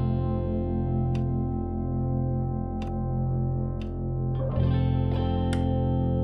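Guitar strings driven through hexaphonic fuzz and panned wide, a thick sustained distorted chord with scattered bright plucks and a heavier new chord struck near the end.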